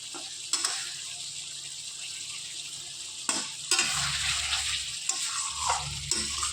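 Besan-coated eggs fry in masala in a pan, with a soft constant sizzle and repeated scraping stirs of a spatula against the pan, close and clear without talk.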